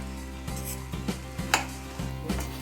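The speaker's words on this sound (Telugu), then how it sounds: "ఇప్పుడు ఇదంతా మిక్స్ చేసుకుందాం." Capsicum rice being stirred and mixed in a pan on the stove, a steady series of soft scraping, rubbing strokes about every half second, close and alone.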